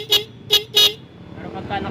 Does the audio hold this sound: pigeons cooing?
no